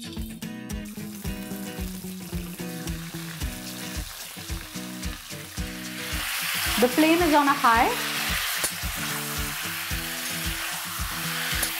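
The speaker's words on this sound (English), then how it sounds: "Let's fry the pieces of chicken." Chicken pieces frying in five tablespoons of hot oil over a high flame, with steady sizzling and stirring clatter, a brief water-like bubbling burst midway; a voice speaks briefly.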